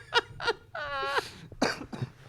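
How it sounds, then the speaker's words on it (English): A person laughs and then breaks into a few short, close coughs, giving a quick burst of throaty sounds between bits of laughter. "every time you laugh, are you going to cough?"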